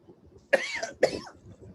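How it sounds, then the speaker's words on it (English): Two sharp coughs from a child in a classroom maths lesson, close and loud, about half a second apart, each with a rough throaty tail, then quiet. "I seem to be coughing."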